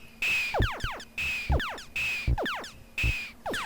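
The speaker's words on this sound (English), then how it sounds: "that's the noise of the aliens moving backwards and forwards" Repeating Space Invaders arcade sound effects: a steady high beep tone, falling and rising chirps, and a low thumping alien-march pulse cycling about once per second.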